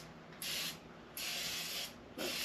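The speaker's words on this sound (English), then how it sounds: "and you can spray your pan." Pump oil sprayer loaded with avocado oil misting a pan in an RV kitchen, three separate hissing bursts, each under a second long, with short pauses between them, close and fairly quiet.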